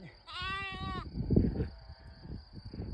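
One sheep bleats once in rural Transylvania, Romania, a short wavering call, followed by rustling and low outdoor noise.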